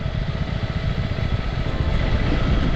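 An adventure motorcycle engine running, a steady loud low-pitched throb with a rough pulsing texture, close and continuous without any talking.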